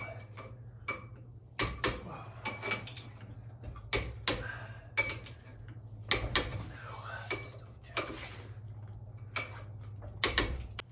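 Metallic clicks and ratcheting from a torque wrench tightening bolts on the rear end of a 1972 Mach 1 with a full spool and 35-spline axles, a series of sharp irregular clicks over a steady low hum.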